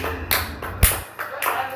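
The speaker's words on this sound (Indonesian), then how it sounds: "tepuk tangan untuk Sule." Scattered hand claps from a stand-up comedy audience welcoming the comedian Sule, arriving in a few separate bursts mixed with voices.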